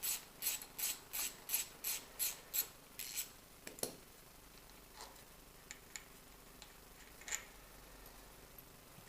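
A ratchet wrench clicks rhythmically in about ten quick, close strokes while loosening 12mm front brake caliper bolts on a DRZ 400 motorcycle, followed by a few faint metallic taps and clinks.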